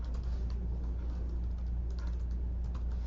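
Steady, fairly close clatter of keys being typed on a computer keyboard, quick light taps running continuously over a low background hum, with no voices.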